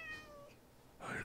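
A cat meows inside a video game, with a short meow early and a louder, brighter meow near the end, standing out clearly over quiet game ambience.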